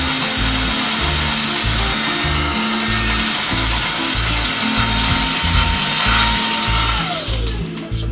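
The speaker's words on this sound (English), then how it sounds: "we don't want to leave all these wood shavings everywhere, so we'll go ahead and vacuum those up" A vacuum runs steadily and loudly, sucking up loose wood shavings from the grass mat of an O gauge model train layout, with a rhythmic rattling chatter under the roar until it winds down near the end. No one speaks.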